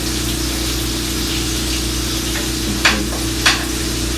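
A steak sizzles in a tilted pan with butter, a steady hiss over a constant low hum, broken by two brief clinks.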